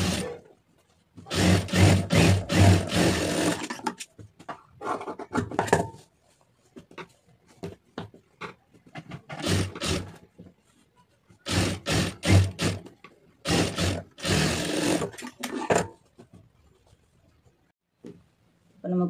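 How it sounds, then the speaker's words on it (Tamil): A sewing machine stitches the seam of a lined blouse after overlocking, running in several separate bursts of rapid mechanical whirring, with gaps of quieter handling and rustling cloth between them. "இப்போ நம்ம ஓவர்லாக் போட்டாச்சு, அதை கரெக்டாக அதை மடக்கி அப்படியே தையல் போட்டுடலாம்."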